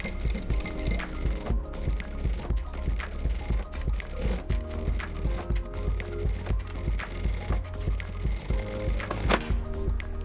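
A sewing machine stitches fabric for a bra top in a steady, rapid mechanical rhythm that runs continuously and close-up, with small pauses and clicks along the way.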